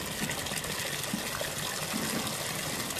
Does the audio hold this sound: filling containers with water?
yes